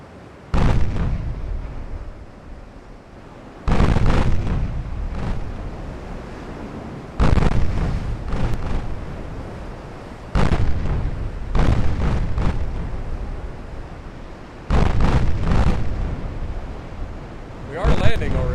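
Warship 8-inch guns from the naval game Ultimate Admiral, firing as a series of heavy booms, roughly six separate blasts each rolling into a long rumble, with someone talking underneath.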